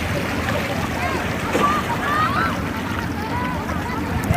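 Sea waves at the shore wash steadily beneath a constant roar of wind noise, with faint high calls or voices drifting through and no clear speech.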